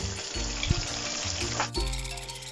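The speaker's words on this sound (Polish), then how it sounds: "Teraz przesmażamy naszą przyprawioną rybkę z obydwu stron." Seasoned fish sizzling and frying in a pan, a dense hiss and crackle with a few soft clinks of a utensil.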